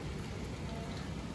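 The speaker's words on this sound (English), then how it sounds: "It's raining." Steady rain falls outside the open sliding door of a hotel room in Sandton, a continuous broadband patter with no voices, close and even throughout.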